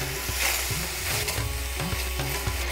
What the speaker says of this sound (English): the coconut's just toasting in the pan